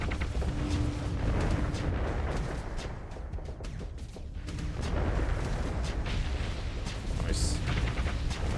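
Torpedoes and pulse weapons firing in a modded Starsector space battle make a dense, continuous roar of booming shots and blasts that stays loud throughout, with voices talking over it.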